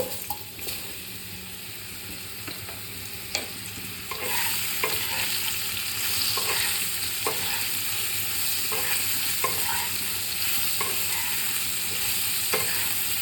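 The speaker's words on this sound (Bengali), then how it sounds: "এবার এখানে আমি মাশরুমটাও ভেজে নেব" Mushrooms fry in oil in a pan after potatoes have been fried, with a steady close sizzle that grows louder partway through and regular scraping stirs over it. No one speaks.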